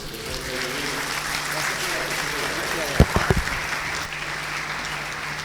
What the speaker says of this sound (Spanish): Repitamos ese aplauso.